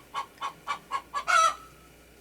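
A chicken clucks five times in an even rhythm, then lets out a longer, louder squawk, close and clear against a quiet background.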